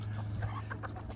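Farm chickens cluck in short, scattered bursts over a steady low hum, fairly close and moderately loud across the whole moment.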